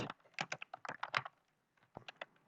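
Bursts of quick computer keyboard typing while code is entered, close and fairly faint, with irregular clusters of key clicks and a short pause midway.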